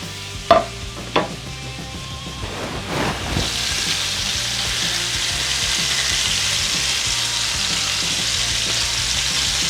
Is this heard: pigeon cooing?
no